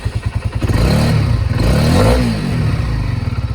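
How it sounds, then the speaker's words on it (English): A Honda CB125R motorcycle engine, rebuilt, starts with rapid chugging cranking pulses, then catches and revs up in a loud rising and falling surge before settling back into a rhythmic idle, close and alone. "I'll start the engine."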